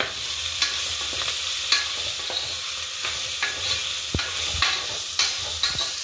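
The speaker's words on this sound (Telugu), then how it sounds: "దీని ఒకసారి కలిపేసుకుందాం" Masala moong dal gets stirred in a sizzling pan, with a steady frying hiss and soft spoon scrapes and taps recurring every half second or so, close and with no speech.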